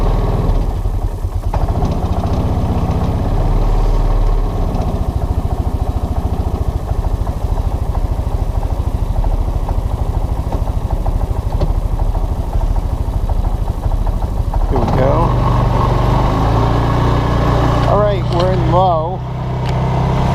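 A Linhai Big Horn 400 4x4 ATV, troubled by intermittent cranking and stalling, idles steadily after warming up, a loud continuous engine drone running throughout while someone talks over it.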